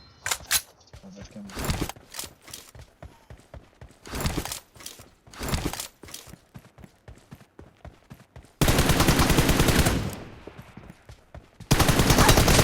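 Gunfire from the mobile battle-royale game PUBG Mobile comes in rapid automatic bursts and single cracks, loud and close, broken by short pauses, with two long dense stretches of continuous firing toward the end.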